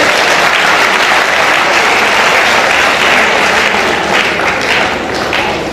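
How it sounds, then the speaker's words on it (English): A large audience at an academic event on gender, power and leadership in African culture breaks into loud, dense, continuous applause that fills the whole stretch without pause. "Can we give ourselves another round of applause?"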